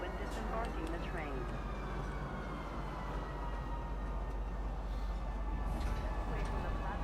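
Metro train in a video game pulls into Metro Center station with a steady low rumble and faint squeals and tones, while a voice talks over the noise.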